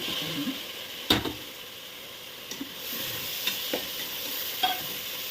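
Chopped tomatoes sautéing with green chillies in a pan for biryani: a steady close sizzle with scraping stirs and a few sharp spoon knocks against the pan.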